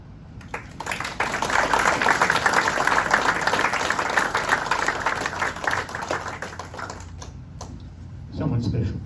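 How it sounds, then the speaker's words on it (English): Dense, sustained applause fills a room at a celebration of life for Robert Butterfield, loud and steady for several seconds before tapering off, with a voice speaking at the end. "The applause is loud and long."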